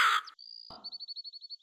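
In a Hindi cartoon, a crow caws as a rapid run of short, evenly spaced calls, preceded by a brief burst of noise and a soft thump, all close and clean.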